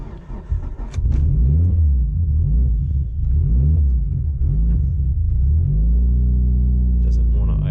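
A Mitsubishi Evo engine, close and loud, is blipped through a series of rising and falling revs, then settles into an uneven, rumbling idle that keeps wanting to stall.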